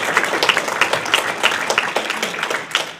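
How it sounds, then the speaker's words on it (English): Round of applause from a meeting audience for its speakers, a small crowd clapping steadily and fairly close for about three seconds, with no talking over it. "if we could get another round of applause for them"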